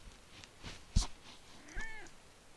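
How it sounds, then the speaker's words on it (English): A house cat gives one rising and falling meow, faint and close, after a soft thump and light rustling in a quiet room. "Cat saying hi."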